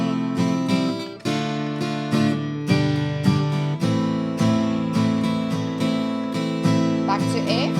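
Guitar strumming a song's chorus in an intermediate arrangement, with full chords in a steady rhythmic pattern, changing chord every bar or so, loud and close with no voices.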